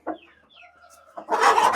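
A rooster gives a few short clucks and a drawn-out tonal call up close, followed by a burst of rustling or flapping noise at the end.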